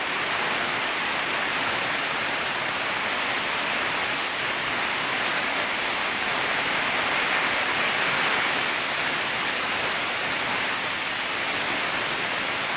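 Steady rain falls continuously, a dense, even hiss of drops with no pauses, no voices and no other sounds.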